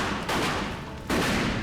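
Gunfire in the video game Mafia II: Definitive Edition, two bursts of shooting, the second louder and sustained, fairly close.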